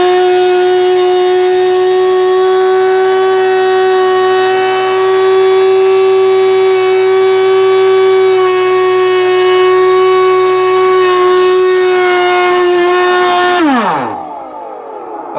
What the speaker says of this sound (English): let's see how well the Husky does sucking up this collection of dust shavings